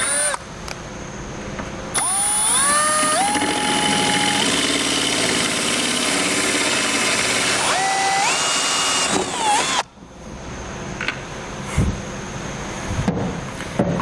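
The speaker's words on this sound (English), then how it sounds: "drill our hole in reverse, and it's just a little easier to manage and makes for a cleaner cut when we're drilling into this plastic." A cordless power drill runs in reverse while boring a hole into plastic trim on a 2018 Ram 1500, its motor whining steadily at close range with rising pitch changes and brief stops before a pause and a few clicks.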